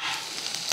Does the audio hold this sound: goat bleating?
no